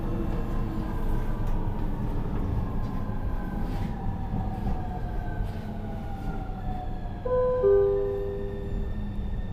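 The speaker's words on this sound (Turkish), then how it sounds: "Kendi giden bir metro yapmışlar." A driverless metro train in Brescia, Italy rolls steadily along with a low rumble, rising and falling tonal whines from the motors, and a brief brighter squeal near the end.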